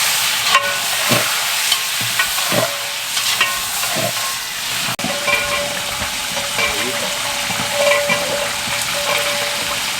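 Six kilograms of chicken fry with onions in a large biryani deg, a steady loud sizzle and hiss with repeated scraping stir strokes and occasional metallic knocks, no voices.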